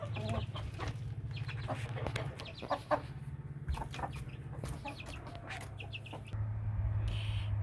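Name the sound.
chickens clucking in a chicken house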